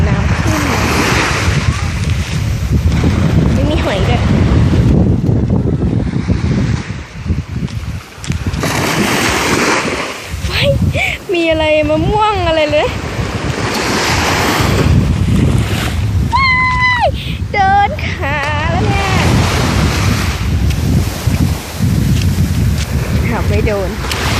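Strong sea waves surge steadily onto a beach at Prachuap in cold-season surf, a continuous loud wash with wind buffeting the microphone while people talk over it.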